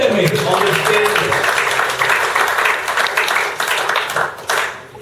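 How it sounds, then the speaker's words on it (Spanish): Congregation applauding during a bilingual church sermon. Loud, sustained clapping with a voice speaking over it at the start. "dale un fuerte aplauso"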